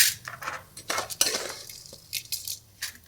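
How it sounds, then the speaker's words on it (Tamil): Roasted chana dal and urad dal are scraped from a pan onto a plate, giving light metallic clinks and scrapes of spoon and cookware in short, irregular bursts, close by and fairly quiet. "நான் கடலப்பருப்பையும் உளுத்தம்பருப்பையும் ஒரு பிளேட்டுக்கு மாற்ற போகிறேன்."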